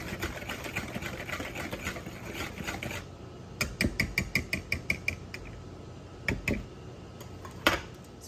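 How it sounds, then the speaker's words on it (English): A wire whisk mixes wet brownie ingredients in a bowl: about three seconds of steady scraping, then a run of sharp, rhythmic clicks as it strikes the bowl, close and alone. "I'm gonna continue to use my whisk to mix the wet ingredients together"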